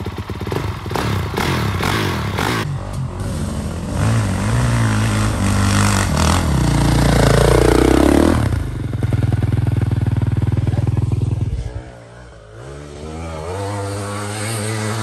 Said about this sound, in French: il va rouler sa toute nouvelle moto de course, la 2023